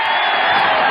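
Canned cheering sound effect: a dense, loud crowd roar of whoops and shouts that fills the whole brief moment at a steady level, with no talk over it.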